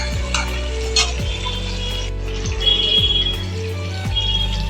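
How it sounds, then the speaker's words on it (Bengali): Two tablespoons of cashews fry in a pan with a steady, loud sizzle, broken by repeated scraping stirs of a spoon at a regular pace, close up, with no voices. "2 টেবিল স্পুন কাজু দিলাম। তা ভালো করে ভাজবো।"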